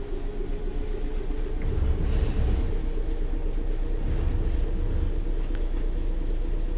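A Class 66 diesel locomotive runs on the Midland Main Line in Train Sim World 4, giving a continuous loud low rumble and engine drone with rolling rail noise, steady throughout and heard without talking.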